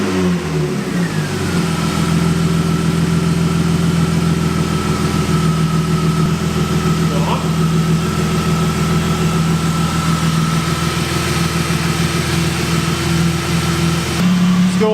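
A BMW E36 325i engine runs steadily after the key is turned, a loud continuous idle with a constant hum and a brief rise in revs near the start.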